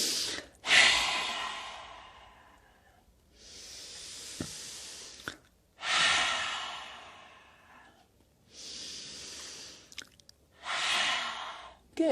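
Slow, deep breaths during gentle yoga practice: a long airy inhale followed by exhales, repeating several times in a quiet room, soft and close with pauses between each breath.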